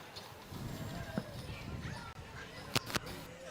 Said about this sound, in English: Got some big mules and big horses.